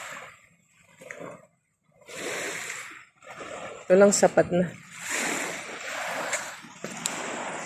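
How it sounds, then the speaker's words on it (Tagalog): Sea water splashing on the shore in gentle, irregular bursts, moderately near and soft, broken by short pauses, with a person talking between and over the splashes. "Sarap dito sa dagat."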